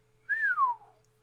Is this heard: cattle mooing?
no